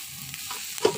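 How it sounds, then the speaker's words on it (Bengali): Pangas fish pieces frying in a pan, a short burst of sizzling with a light stirring scrape near the end. "দেখি মাছ ভাজা কত দূর"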